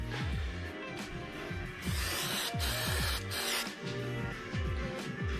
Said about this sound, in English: Luckily we've got brake cleaner. Give that a quick clean off. Clean the manifold off,